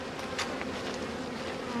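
A strong honeybee colony drones steadily at an open hive, a dense continuous buzz with individual bees passing close by, loud and even throughout with no talking.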